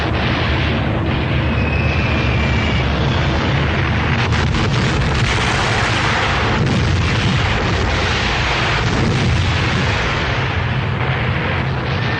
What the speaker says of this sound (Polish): Armaty i Luftwaffe przygotują grunt.